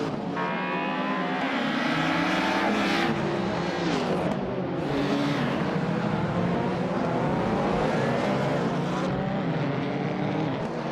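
Mitsubishi Starion race car engine in a racing video game, a loud, continuous harmonic drone with the pitch rising and falling through gear changes and throttle shifts, steady throughout with no talking.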